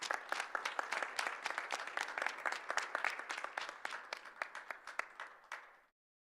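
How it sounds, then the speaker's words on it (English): Crowd of parents and staff clapping for eight students at a school committee meeting, dense rapid applause that thins out toward the end and stops abruptly, heard at a moderate distance. "And can we get a big round of applause for all 8?"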